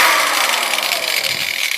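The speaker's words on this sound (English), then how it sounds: "I just have a regular drill here, cheapo 1-speed" A cheap one-speed electric drill fitted with a Dremel wire brush runs steadily close by, a loud continuous high whir with slight wavering and no voices.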